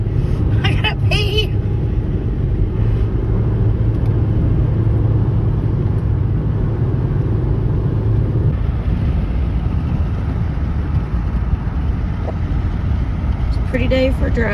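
Inside a moving car on mountain roads to Brasstown Bald in Blairsville, a constant loud engine and road rumble fills the cabin, with people talking at moments over it.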